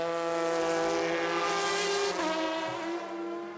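Audi race cars lapping at the Le Mans 24 Hours in 2002 around dawn, a steady high-pitched engine whine passing at moderate distance with a slight pitch drop, no talk.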